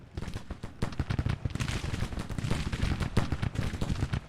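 Dense musket volleys and artillery fire from a Civil War battle in the Grand Tactician strategy game, a continuous loud crackle of overlapping shots and booms with no pauses.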